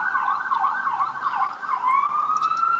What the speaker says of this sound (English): I hope that siren's not too big of a deal.